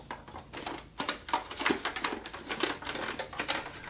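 A plastic Cylon Raider model kit creaks and crackles as it is handled and moved, giving a steady run of dry, close ticking and crinkling sounds with no talking.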